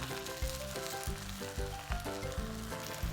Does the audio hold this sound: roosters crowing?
no